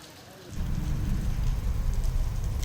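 Heavy rain pours down steadily during a downpour in Nagapattinam district, a dense, loud hiss that swells in after a quieter start and continues without a break.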